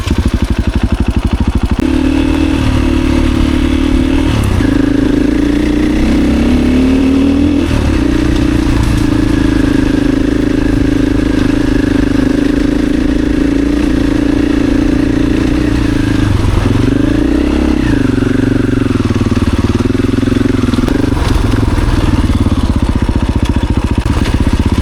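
An enduro motorcycle rides along a trail, its engine droning loud and close throughout, with the pitch rising and falling as the throttle shifts over uneven ground.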